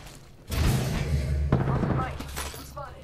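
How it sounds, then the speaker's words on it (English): Gunfire in the video game Apex Legends comes as sharp close bursts and thuds over a loud rumbling mix, with a player's voice heard at the same time. "I'm getting shot at"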